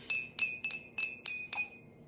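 A small Santa Claus ornament bell jingles in six quick, bright, metallic shakes, close and clear against near silence.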